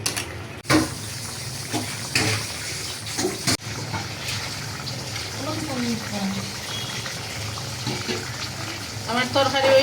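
Water is poured into a pan of fried potatoes during curry cooking, giving a sustained splashing, sizzling wash with clatters from utensils, while a person talks over it in a home kitchen.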